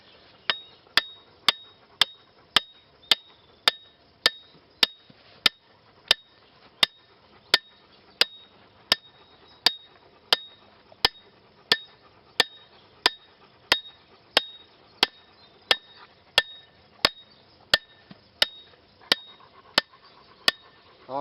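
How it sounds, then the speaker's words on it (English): A Badger trap anchor is pounded down into a drilled dirt hole, a steady series of about thirty sharp, ringing metal hammer blows at an even pace, loud and close with no talk. "I'm pounding my Badger right down into the hole that I drilled."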